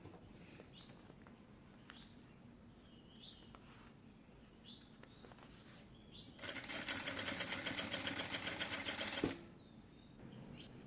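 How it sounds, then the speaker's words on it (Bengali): A sewing machine runs in one steady burst of about three seconds while stitching piping along the edge of yellow fabric for a neckline design. Faint bird chirps and quiet room noise come before and after it. "সেলাই করে হচ্ছে এটিকে আমি পাইপিং করে নেব।"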